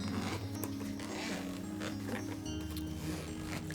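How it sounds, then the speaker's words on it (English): The double zipper on a Steam Deck carrying case is pulled open in a close, continuous raspy zip with small ticking catches along its length. "Got the nice double zipper here."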